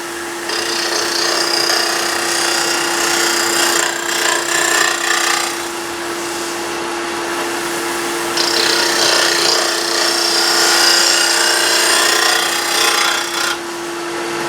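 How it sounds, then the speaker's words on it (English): A gouge makes a shearing cut on a spinning wood lathe. A steady motor hum runs beneath a loud, continuous hissing scrape that shifts in texture partway through, with no talking. "I'm going to try a shearing cut with my gouge"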